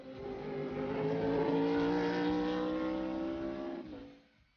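A Hatsune Miku BMW race car laps in Super GT qualifying, its engine holding a loud, steady high-revving drone that swells and then fades away as the car passes and leaves.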